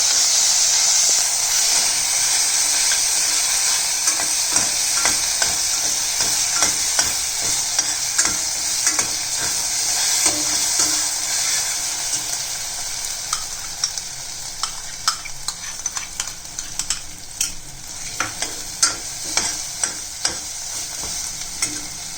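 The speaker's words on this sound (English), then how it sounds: "masala into this. And saute this." Finely ground masala sautés in a pan for palak paneer, a steady close hiss and sizzle with frequent scraping stirs that grow more clattery toward the end, no voices.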